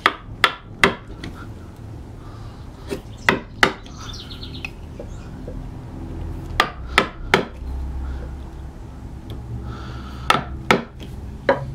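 A chisel is struck into wood while chopping out a square block, heard as sharp, close mallet knocks in small clusters of two or three, separated by quieter pauses, with faint bird chirps in the background.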